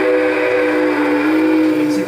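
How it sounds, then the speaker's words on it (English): A model steam train at a model train museum sounds a sustained, loud whistle-like tone as it leaves the station, steady and close throughout the short stretch. "The train's about to leave the station"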